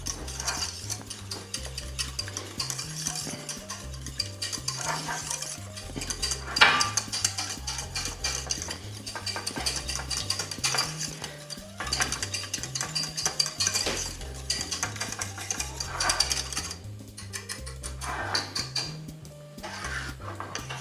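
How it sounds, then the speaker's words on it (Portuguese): Velouté sauce being stirred in a pot, with steady scraping and clinking of a utensil against the metal continuing throughout, over a low musical background. "Misturando."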